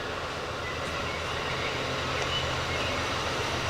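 A train passing at Horseshoe Curve, a steady, loud broadband rumble and roar that holds unbroken throughout.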